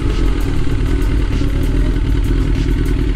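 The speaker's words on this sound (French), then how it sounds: "il y a un bruit de poussoir ou de je sais pas quoi" Engine of a 2001 Suzuki GSXR 1000 motorcycle with a suspected tappet noise, running loud and close with a steady idle and fast metallic clatter ticking over the low mechanical rumble.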